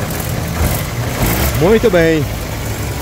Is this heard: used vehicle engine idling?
yes